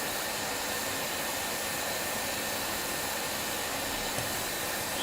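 A hot air rework tool blows steadily while heating solder balls during an electronics repair, a continuous even airy hiss held at a constant level for several seconds with no talk.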